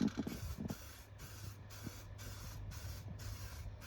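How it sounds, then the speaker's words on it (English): Paint sprayed from a rattle can onto a Harley Benton DIY guitar kit body, a series of about six steady hissing bursts in a regular on-off rhythm, close and fairly quiet, with no talk. "Oh, I've sprayed my hand."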